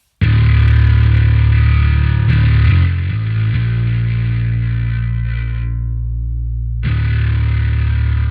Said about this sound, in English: I use my massive bass preset, which sounds like this.